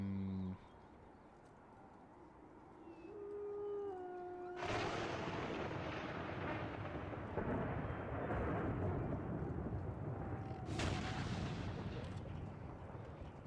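Artillery fire in the Napoleonic-era strategy game Empire: Total War, heavy booming cannon blasts rolling into a sustained rumbling roar, loud and continuous with a second sharp volley later.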